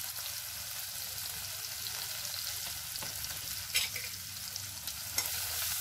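A green chilli mixture with salt and ground coriander fries and is stirred in a pan, a continuous soft sizzling hiss with a few faint scraping clicks throughout.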